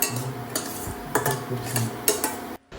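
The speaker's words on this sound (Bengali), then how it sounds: "সে খুন্তি নিয়ে এত জোর নাড়তে থাকছে" A metal spatula stirring hard in a cooking pot, repeated sharp scraping clanks in an uneven rhythm over a steady background hiss, close and moderately loud, with no talking.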